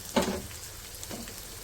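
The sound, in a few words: chicken pieces added to frying onion and garlic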